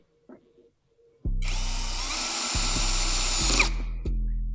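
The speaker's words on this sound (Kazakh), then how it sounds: "16 миллиметрлік шуруппен қатырамыз." A power drill drives 16 mm screws into a wooden cabinet, one long steady whir lasting a few seconds, close and loud, with brief clicks and pulses of the motor near the end.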